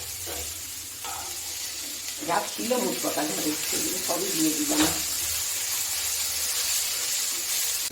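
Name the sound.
potatoes and beans frying in a wok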